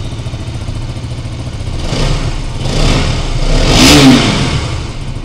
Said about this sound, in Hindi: मैं थ्रॉटल करके आपको दिखाता हूँ एक बार।